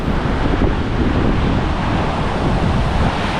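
Surf on an empty beach along the Great Ocean Road, a loud, continuous low roar of waves mixed with wind buffeting the microphone, with no voices.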